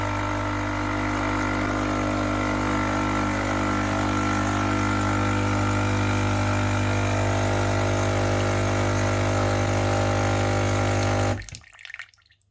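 A Nespresso Creatista Uno coffee maker hums and pumps water through its system during descaling, a steady, loud mechanical drone with trickling water that runs unbroken for about eleven seconds before stopping abruptly.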